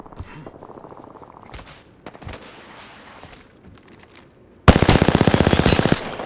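Automatic gunfire in the Apex Legends video game: scattered single shots and footsteps, then a loud, rapid sustained burst of machine-gun fire in the final seconds, close and clear.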